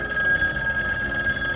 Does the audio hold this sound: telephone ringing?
yes